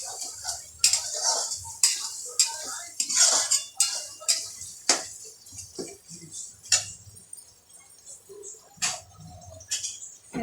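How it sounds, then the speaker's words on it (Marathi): Ginger garlic paste is sautéed for pav bhaji, a metal spoon repeatedly scraping and clinking against the pan in brisk, uneven strokes, close and fairly loud. "अद्रक लसूणची पेस्ट पण चांगली परतून घ्यायची आहे"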